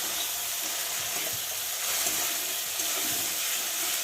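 Mustard frying in a pan for a bitter gourd (karela) dish, a continuous bright sizzle and crackle of hot oil holding steady and fairly loud throughout, with no voices.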